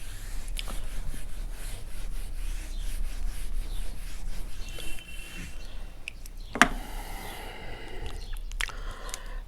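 Board writing being wiped off by hand during a maths lecture, a soft continuous scrubbing rub with uneven strokes and a sharp knock near the end, fairly quiet and without speech.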